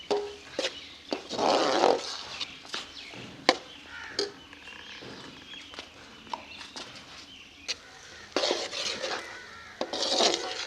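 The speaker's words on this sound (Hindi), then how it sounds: "अब मज़ीद इसे 6-7 मिनट भून लेंगे।" Matar keema, a pea and mince mixture, is stirred and roasted in a pan, with repeated close scraping and clanking of a spoon against metal over a low sizzle.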